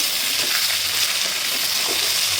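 Yogurt-marinated chicken leg pieces with kasuri methi frying in a pan, a dense, fairly loud continuous sizzle with a few faint stirring touches, no voices.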